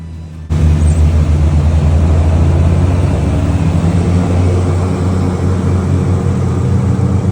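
A plane landing at Lukla airport, heard from the cabin as a loud, steady engine and propeller roar that switches on abruptly and holds unbroken.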